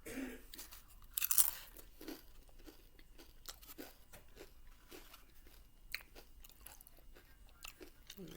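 Doritos chips dipped in sour cream are bitten and chewed close to the mouth, a series of crisp crunches with a loud bite early on, then steady rhythmic chewing without talk.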